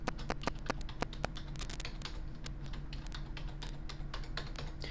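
Someone typing a password on a computer keyboard, a quick irregular run of light key clicks close by, continuous for several seconds with no talk.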